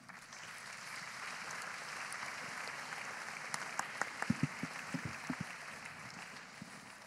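Church congregation applauding the pastor after a sermon, a steady wash of clapping from a crowd at moderate distance, with a few sharper nearby claps standing out toward the end.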